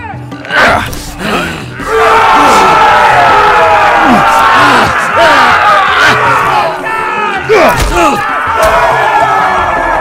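An arena crowd in the Game of Thrones Telltale video game roars and cheers loudly and continuously, with shouts and bellows rising over the din.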